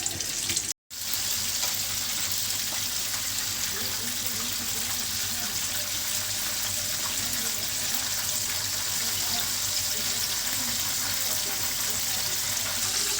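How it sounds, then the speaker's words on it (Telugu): Chicken leg pieces frying in hot oil for homemade KFC-style chicken lollipops, a steady close hiss and crackle that runs without a break after a brief dropout near the start. "ఇవి ఫ్రై చేసినాక మిగతావి వేద్దాం"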